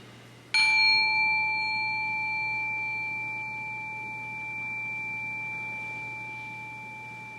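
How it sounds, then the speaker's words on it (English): A single meditation bell struck once during an interfaith Veterans Day service at the Presidio, its clear ring sustaining and slowly fading over several seconds against quiet room hum. "listen to the bell, some meditation on sound."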